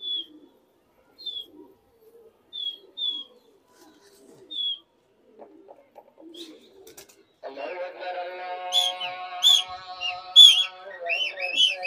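Pigeons kept for Delhi kabootarbazi fly in a flock, giving faint intermittent whistling calls that give way to a louder, busier stretch of layered whistles and chirps toward the end, with a voice briefly present.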